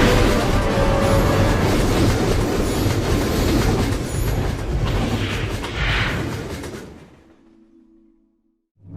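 The Polar Express train from the movie rumbles and clatters steadily along the rails, loud and close, then fades away, leaving a low steady hum.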